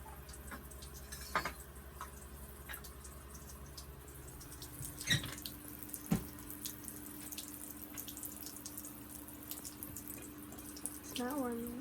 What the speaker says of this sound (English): we're going to turn on the warm water so that we can rinse the part properly